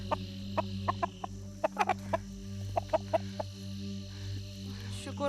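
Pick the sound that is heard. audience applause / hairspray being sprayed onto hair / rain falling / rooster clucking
rooster clucking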